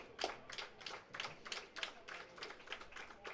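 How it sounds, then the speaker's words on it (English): Baseball crowd at a Welland Jackfish versus Barrie Baycats game claps in a rhythmic, evenly spaced pattern, distant and faint, about a dozen beats. "and the crowd really getting into it again."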